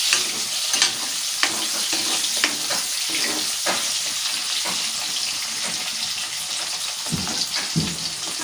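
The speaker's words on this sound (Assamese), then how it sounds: "অকণমান ভাজি ল'ব লাগিব।" Potato pieces frying in oil in a pan, a continuous close sizzle with soft stirring taps, steady and fairly loud throughout.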